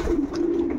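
A pigeon coos in a breeding loft, a single low, throaty, rolling coo close by with a brief rise and fall, no talking.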